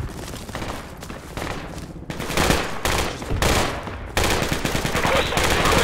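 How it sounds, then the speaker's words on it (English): Rapid bursts of automatic and single-shot gunfire from a Project Reality military shooter game, loud and sustained across the clip with overlapping volleys and a few brief voices underneath. "I'm taking a lot of fire."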